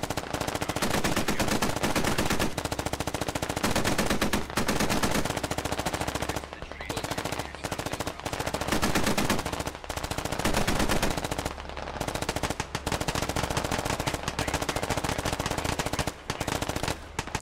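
Sustained suppressing machine gun fire in the game Squad, loud, close and nearly continuous, with rapid rounds running in long bursts broken by only brief pauses.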